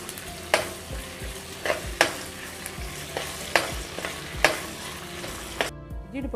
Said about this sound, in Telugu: అల్లం వెల్లుల్లి పేస్ట్ ఒక స్పూన్ వేసుకోవాలి వేసుకున్న తర్వాత పచ్చి వాసన పోయేంత వరకు ఒక 2 నిమిషాలు ఫ్రై చేసుకోవాలి